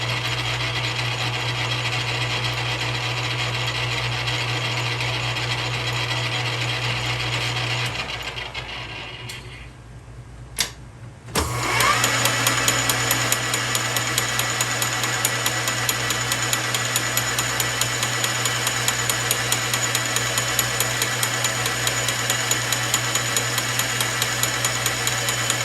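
A metal lathe runs with a worn gear that has a damaged tooth, giving a steady loud mechanical whine and grinding with a rapid rhythmic knock. It drops out briefly partway through, then starts up again and runs continuously.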